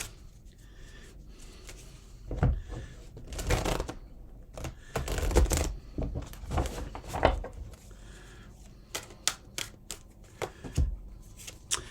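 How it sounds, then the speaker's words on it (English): Tarot cards being shuffled by hand: soft riffling and slapping bursts come in irregular clusters, close and fairly quiet, with no talking. "let's see what the tarot cards have to say"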